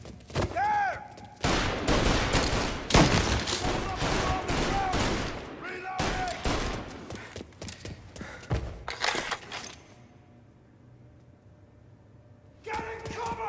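Dense gunfire from a 1930s-style mob shootout in Mafia: Definitive Edition, rapid overlapping bursts of pistol and machine-gun shots with shouting voices, then a lull before shots resume near the end.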